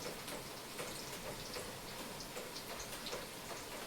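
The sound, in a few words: rain falling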